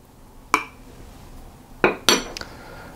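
A spoon clinks against a bowl while a tablespoon of milk goes into golden syrup cupcake batter, with three or four short, bright metallic taps close by and quiet between them.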